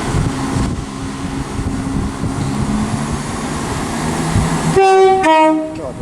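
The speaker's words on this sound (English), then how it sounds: "Off goes the 1644 ScotRail service to Glen Rovers with Thornton" A ScotRail train departs Haymarket with a low rumbling engine, then sounds a loud two-tone horn blast near the end, close by.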